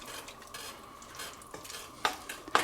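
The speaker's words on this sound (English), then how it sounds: "So let's give it a little bit of a stir." Broccoli and barbecued pork in stir fry sauce are stirred in a pan, a low sizzle under soft scraping that ends in two sharper metallic clanks of the utensil against the pan, close and without speech.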